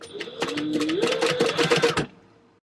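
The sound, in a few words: sewing machine stitching clear vinyl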